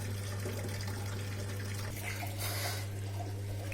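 Water pouring into the tub of a Samsung top-loading washing machine during an eco tub clean cycle, a steady rushing fill over a constant low machine hum, close and continuous.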